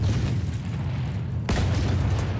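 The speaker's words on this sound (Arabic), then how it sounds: "تم تدمير المدفع" A cannon in the video game Battlefield 1 is destroyed, giving a loud, sharp explosive boom midway through, heard against a steady rumble of battlefield noise.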